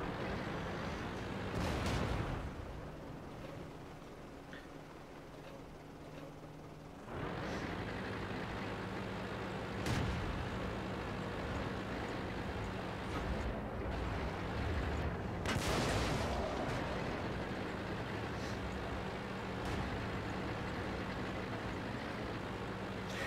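A Churchill I tank gun fires repeatedly in a game battle: several loud, sharp cannon blasts spaced a few seconds apart over a steady rumbling engine and battlefield hum.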